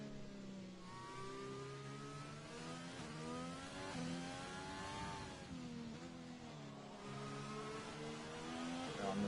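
A race car engine in a PS4 racing game during a Hungary round, revving and accelerating with rising and falling whining pitch, steady and fairly faint throughout, with no talking.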